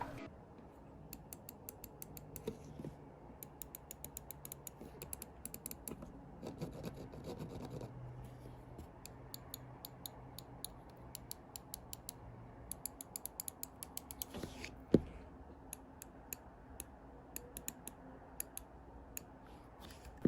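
Buttons on an Xtrfy M4 gaming mouse click sharply and quietly, many times in irregular quick succession over a soft background hiss, with a single louder click partway through.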